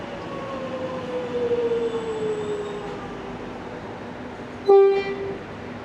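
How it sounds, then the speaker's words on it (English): Flinders Street train pulling into platform 1 at Camberwell station, a steady rumble with rising tonal whine, then a single loud horn toot near the end. "that Flinders Street train is arriving on platform 1 right now."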